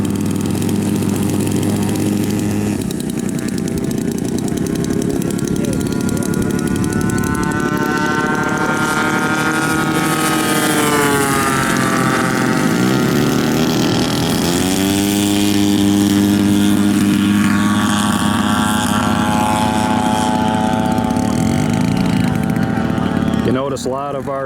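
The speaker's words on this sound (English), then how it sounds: "Notice a lot of our engines are running a little bit rich this weekend." Propeller airplane engines drone loudly at a 2025 air show in Goshen on a hot, humid day, running a little rich. A rising and falling harmonic whine sweeps past continuously while a commentator talks over it.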